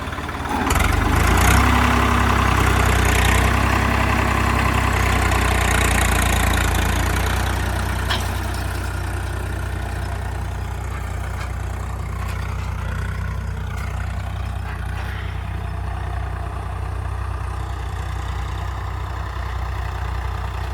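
A Swaraj tractor's heavy engine rumbles loudly at idle nearby after dark, a low steady drone that eases slightly after the first few seconds and continues without speech.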